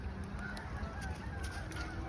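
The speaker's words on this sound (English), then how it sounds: "Whoa, turkeys can fly," Wild turkeys fowl-calling and flapping up from a riverside forest floor, a steady run of honking, gobbling notes with scattered wing bursts, fairly close and loud with no talk.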